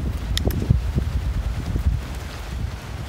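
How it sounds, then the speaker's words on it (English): Steady gusty wind on a pier buffets the microphone with low rumbling roar, a few brief higher rustles and knocks in between. "Windy as heck."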